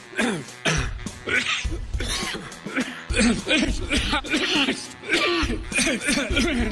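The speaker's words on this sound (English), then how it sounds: "let me clear my throat" Repeated throat clearing and coughing, close and loud, in several rough bursts mixed with brief bits of a voice.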